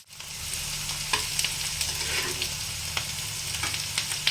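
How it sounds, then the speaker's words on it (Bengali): Chopped onion sizzles steadily in a pan on high heat, with intermittent scrapes and taps of a spoon stirring it through the whole stretch. "পেঁয়াজটা আমার ভাজা হয়ে গেছে।"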